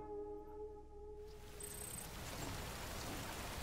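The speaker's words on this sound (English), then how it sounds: "It's just really rainy." Steady hissing rain in Death Stranding, swelling from a quieter tonal backdrop into a dense, even wash of falling drops that fills the scene.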